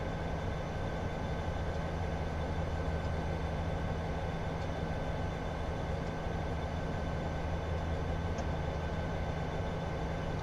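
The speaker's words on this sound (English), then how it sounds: "Got the Amtrak train coming now." Steady, continuous rumble of an Amtrak train running in the Train Simulator 2015 game on Stevens Pass, a constant low drone with a faint hum and no talking.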